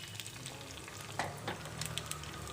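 Mustard seeds, dried red chilies and finely chopped curry leaves sizzle and crackle in hot oil as they are stirred for a pepper rasam, with steady frying hiss and a few sharper pops.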